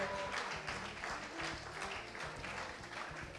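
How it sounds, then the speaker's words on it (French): Audience at the Miss Haiti pageant final applauds a contestant, continuous clapping heard faintly over a steady rhythmic music beat. "On applaudit Muriel Brunal, s'il vous plaît."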